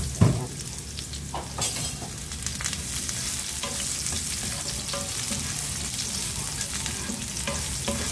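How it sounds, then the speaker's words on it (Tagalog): Onions sautéing in a hot pan, a steady crackling sizzle that runs throughout with occasional stirring scrapes, close and fairly loud, with no talking, while Chicken Pininyahan is being cooked. "igisa na natin itong sibuyas muna"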